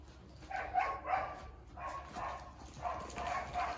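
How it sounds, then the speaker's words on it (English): A seven-week-old puppy gives several faint, soft yips and barks in two or three clusters, somewhat distant beneath a steady room hiss. "I've got a smart little puppy after my paper towels."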